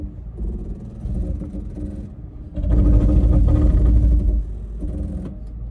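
A Lexus/Toyota off-road vehicle's A-TRAC system brakes individual wheels, a loud, close mechanical rumble and grinding that surges midway and holds, then eases, over engine drone.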